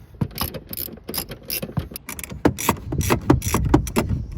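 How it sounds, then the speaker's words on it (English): A ratchet clicks in quick, uneven bursts close by as it loosens the rear seat bolts of a BMW 750Li, with short pauses between runs of sharp metallic ticks and no speech. "So we're going to be pulling these back bolts now."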